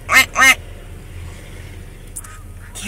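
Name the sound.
ducks quacking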